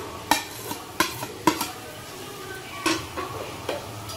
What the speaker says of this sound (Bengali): এবার আমরা এগুলোকে ভালো করে একটু কষিয়ে নেব